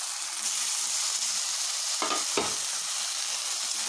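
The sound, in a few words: frying potatoes for aloo palak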